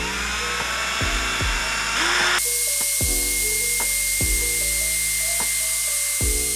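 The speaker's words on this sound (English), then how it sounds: "you're going to drill a hole through the exact center of the bottle" Power drill boring a hole through a plastic bottle for a homemade juggling club, a loud whining motor with repeated short bursts and pitch shifts, close up and alone.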